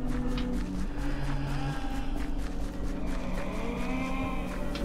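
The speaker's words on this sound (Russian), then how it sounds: "Я чуть корову не убил." A cow moos in the video game Minecraft Dungeons, a sustained low lowing call repeated over steady game background sound with no talking.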